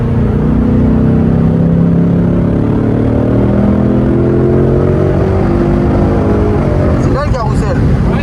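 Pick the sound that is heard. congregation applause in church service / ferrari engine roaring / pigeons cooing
ferrari engine roaring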